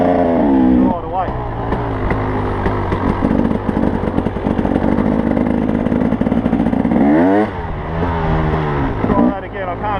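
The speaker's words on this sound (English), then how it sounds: "pull the rear brake in, start the bike in here, right away" A motorcycle fitted with a Clake2 dual control clutch and rear brake unit starts with a close, loud engine note that revs and drops, cuts out briefly, then picks up again with a rising whine.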